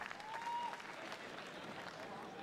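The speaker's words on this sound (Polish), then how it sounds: "Brawa widowni." Audience at a professional boxing bout in the ring applauds after a knockout win, a steady wash of clapping and crowd noise throughout with a brief whistle early on.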